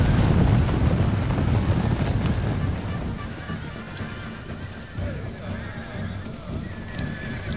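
Cavalry horses charging in a Total War battle, with neighing and whinnying over rumbling massed hooves and wind-like battle roar, loud at first and easing slightly, with a voice talking over it.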